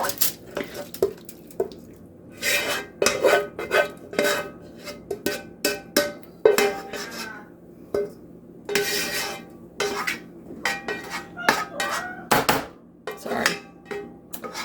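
Repeated clanks and scrapes of a utensil against a metal pot as shepherd's pie filling is spooned in, uneven bursts of knocking with short pauses, close and fairly loud.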